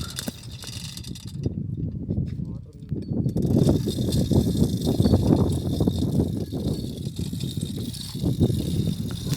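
A borewell crew hauls a stuck motor up out of the bore, loosening and tightening as they pull, producing a steady run of close mechanical clanking and ratcheting that continues throughout.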